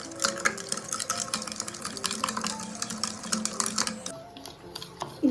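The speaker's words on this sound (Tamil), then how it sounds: "நல்லா மிக்ஸ் ஆகிற வரைக்கும் நல்லா பீட் பண்ணிக்கோங்க." Sugar, butter and milk beaten together by hand in a bowl, with a steady run of quick scraping, tapping whisk or spoon strokes against the bowl, close and continuous, easing off near the end.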